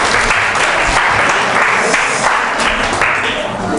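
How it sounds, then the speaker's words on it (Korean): Audience applause at a church history lecture, steady dense clapping from a crowd filling the room, loud and sustained throughout without pause. "여러분 박수 한번 할까요?"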